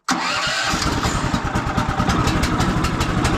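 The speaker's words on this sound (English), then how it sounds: "Gas on, choke on. I give it just a touch of gas." A gas engine on a sawmill fires up abruptly and settles into a loud, steady, throbbing idle close by, running continuously with no talk over it.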